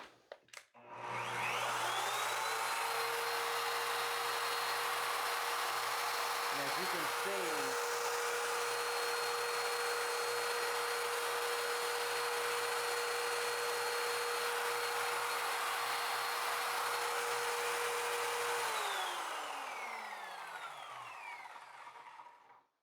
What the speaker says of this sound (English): it is loud, like a vacuum cleaner and a sander running at the same time